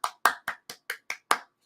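A short burst of audience clapping, about seven distinct sharp claps in an even, fairly quick rhythm, close and clear with no talk.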